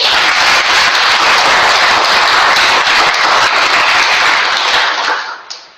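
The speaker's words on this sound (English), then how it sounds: "we have a huge round of applause for" Club meeting audience gives a hearty round of applause for the evaluators, a loud, dense, even wash of clapping that continues steadily before tapering off at the end.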